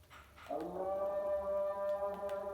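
A dog howls or whines outdoors at a campsite, one sustained tonal cry that begins abruptly and holds steady for about two seconds, fairly close and alone.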